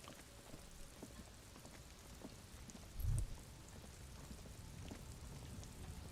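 Rain falls in the video game Disco Elysium, a faint steady hiss of drops on surfaces with one brief low thump partway through, no voices.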